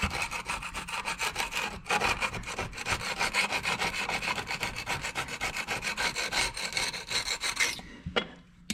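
A Phillips-head screwdriver scrapes broken grout out of tile joints around a sink in a continuous, close, harsh rasping that runs in quick back-and-forth strokes, then stops abruptly near the end with a final clack.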